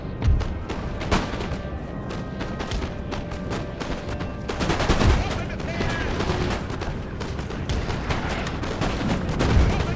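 Cannon and artillery fire in a Napoleon Total War battle, with repeated booming shots and crackling volleys over a constant battlefield din, fairly loud with irregular spacing and faint voices beneath.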